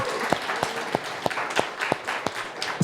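Sparse applause from a networking event audience cheering the host, a few distinct hand claps ringing out at a steady loose rhythm over a light murmur of room noise.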